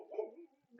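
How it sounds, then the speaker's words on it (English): A dog gives one faint, short bark or yelp indoors, brief and somewhat distant, followed by a softer whimper-like trace. "Excuse the dog."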